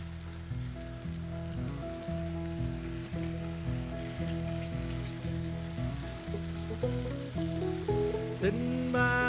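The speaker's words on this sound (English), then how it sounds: "Get on a few slices of bacon." Bacon slices sizzle on a Blackstone griddle, a soft, continuous frying hiss that sits under louder twangy background music throughout.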